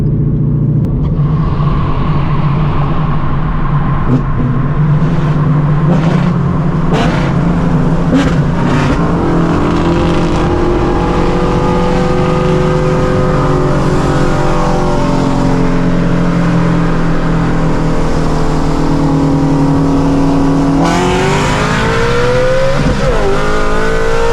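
An 800-horsepower Shelby GT500 running E85 with full bolt-ons revs hard and accelerates in a race, its loud sustained engine roar climbing through gears across the whole stretch.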